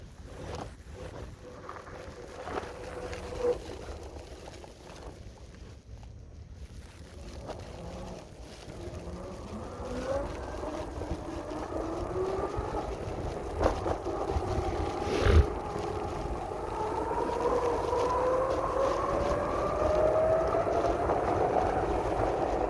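Small 2200 watt electric motors driving a vehicle through deep sand, a faint whine that grows louder and climbs in pitch over rushing wind noise.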